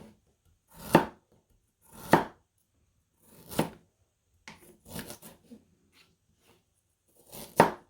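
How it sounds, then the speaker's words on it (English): A knife chops carrots thinly on a cutting board in five or six separate crisp strokes at uneven intervals, close and clear with quiet pauses between. "You're done chopping the carrots"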